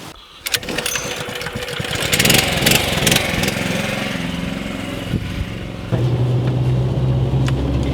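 A tractor pulling a LEMKEN implement sets off for a round on a 2.6-hectare field, its engine a steady, fairly loud drone that builds and thickens partway through, with no voices.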